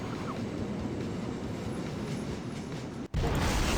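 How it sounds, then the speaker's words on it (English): Tank train of tanker cars rolling past in the railway game Conduct DELUXE, a steady rumbling clatter of wheels that cuts out briefly, then resumes louder and closer. "I just ran into a tank train"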